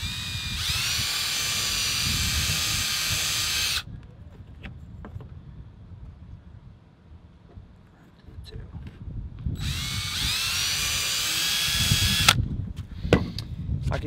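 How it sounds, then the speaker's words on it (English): A power drill whines in two loud bursts while boring holes in a homemade topwater fishing lure, separated by a quieter stretch of handling noise. "We're gonna drill two holes in it"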